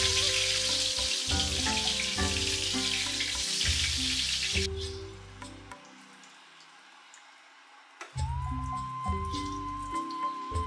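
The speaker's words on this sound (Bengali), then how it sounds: "এবার সেটাই ভেজে নিব।" Sliced eggplant sizzles in hot oil with a loud, even hiss for several seconds before the sizzle stops, while rhythmic background music plays throughout.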